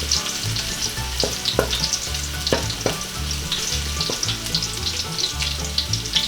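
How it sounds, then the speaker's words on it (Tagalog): Garlic fries in hot oil with a loud, dense sizzle and crackle, punctuated by repeated spatula knocks and scrapes against the pan as it is stirred toward golden brown for Cebu-style linabog. No one speaks. "Hihintayin lang po natin na medyo mag-golden brown po yung ating bawang."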